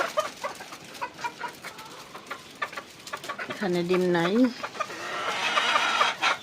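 Fayoumi chickens in a coop, with a few clucks and one drawn-out call rising over shuffling and rustling, close by. A person speaks briefly.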